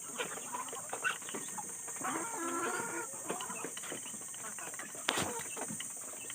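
Chickens cluck on a farm alongside ducks, with a mix of short clucks and fowl calls scattered through the clip, moderately close with a steady background hiss and one sharp knock near the end.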